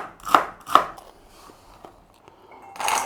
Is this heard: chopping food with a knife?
yes